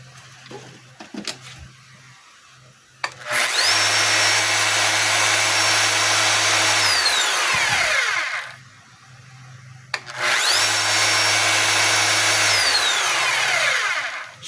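A DeWalt 5 kg electric jackhammer is plugged in and test-run in two bursts of about four seconds each, a loud buzzing motor roar that spins up sharply and dies away, separated by a quiet pause.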